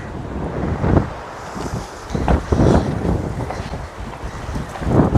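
Strong gusting wind buffets the microphone outdoors on farmland, roaring in loud surges that rise and fall over several seconds, with no talk.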